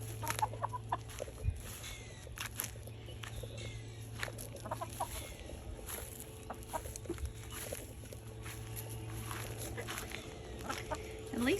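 Chickens in a garden give scattered soft clucks and short calls at a moderate distance over a low steady hum, fairly quiet, with occasional faint rustling.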